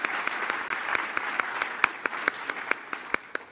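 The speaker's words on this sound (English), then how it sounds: "give a round of applause" An audience at an Army family forum town hall claps for the panelists, a dense patter of many hands that thins into scattered, sharper individual claps as it fades.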